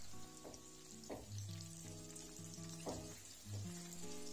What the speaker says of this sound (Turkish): Çok fazla yağ kullanmadan kızartmanızı yapabilirsiniz.